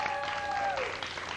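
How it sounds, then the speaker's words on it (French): An audience claps in a short, steady burst of applause for a team in a school classroom activity, the dense patter holding evenly at moderate volume with a faint voice or tone sliding beneath it. "Une bonne main d'applaudissement, s'il vous plaît, pour les verts."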